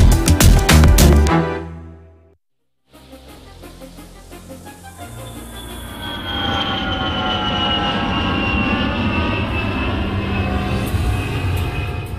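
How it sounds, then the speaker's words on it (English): A plane passes overhead with a broad, loud roar that builds and holds steady after a brief silence, its engine tones sliding gradually downward. "my director hates how this plane sounds"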